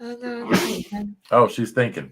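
A single sharp sneeze bursts out mid-conversation during a casual livestream chat, brief and close to the mic, with people talking just before and after it.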